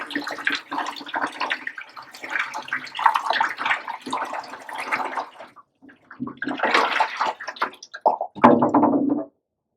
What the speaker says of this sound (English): And then I fill it up with some freshly boiled water.